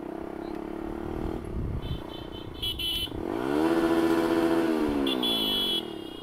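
A motorcycle ridden in traffic near a crowd, its engine rising in a steady revving drone that climbs in pitch, with a brief horn and clatter around it.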